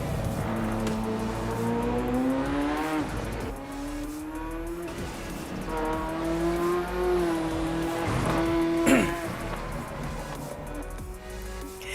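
A race car engine in the Assetto Corsa Evo racing game at the Nürburgring, revving very high with rising and falling pitch sweeps, a brief tire squeal, steady and fairly loud throughout.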